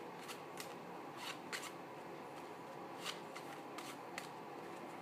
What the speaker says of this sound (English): I'm going to cut the cards and give them a shuffle.